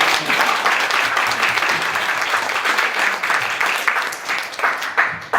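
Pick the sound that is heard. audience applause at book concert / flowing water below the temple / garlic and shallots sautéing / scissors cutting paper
audience applause at book concert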